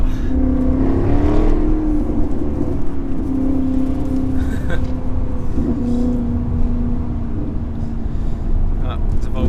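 Maserati Gran Turismo S engine and exhaust rise and fall in pitch as the car accelerates on the road, a loud, close, steady drone heard from inside, with people talking over it.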